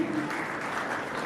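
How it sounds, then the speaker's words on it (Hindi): Audience applause at a ceremony honouring meritorious students, a steady dense wash of clapping from many hands, loud and unbroken throughout. "अरे भाई तालियां बजती रहनी चाहिए"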